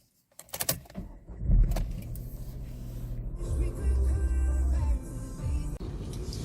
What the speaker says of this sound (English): let's us go out for a drive, shall we, viewers, and see how this Viva performs on the road